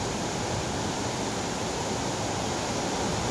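Steady, loud rushing water of Pulang Bato waterfall, a continuous broadband roar close by with no break.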